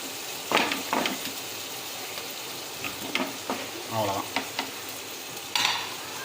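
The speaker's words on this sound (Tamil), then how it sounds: "பத்து நிமிஷம் கலக்கி கலக்கி கலக்கி கலக்கி விட வேண்டியதுதான்" Chicken being stirred in a pan with no oil for a dry chicken fry, giving scattered scraping strokes and a soft sizzle in short bursts, close by and moderately loud, with a few clattering utensil knocks.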